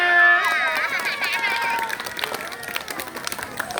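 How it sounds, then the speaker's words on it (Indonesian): A short burst of clapping and crowd noise for class 1 at a school award ceremony, with high whistle-like tones at the start and voices mixed into the applause. "Kelas 1. Tepuk tangannya."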